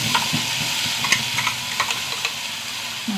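Chutney poured into a hot tempering of urad dal, dried red chillies and curry leaves gives a loud close sizzle and crackle, with pops and spoon scrapes over steady frying hiss and no talk.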